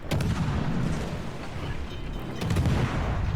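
Naval guns in World of Warships fire at a surfaced submarine, heavy booming salvos rolling into one another, with sharp reports near the start and again toward the end over a continuous low rumble.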